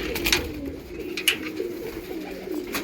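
Continuous low cooing from a large flock of loft pigeons, close and steady, with a few brief sharp bird calls and flutters over it.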